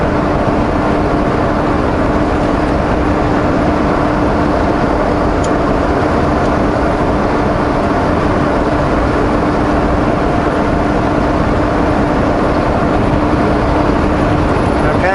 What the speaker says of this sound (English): Just letting the truck drive where it wants to, kind of moving left and right wherever it wants to, and make very small corrections